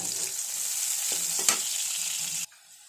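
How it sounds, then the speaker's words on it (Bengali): Onions hitting hot oil in a home kitchen pan, a bright steady sizzle with a couple of stirring knocks, cutting off abruptly near the end. "তো আমি পেঁয়াজগুলো আগে দিয়ে দিচ্ছি"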